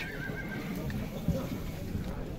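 A horse whinnies partway through amid the bustle of a Bishkek horse market, with a short thump partway through and steady crowd murmur and voices underneath.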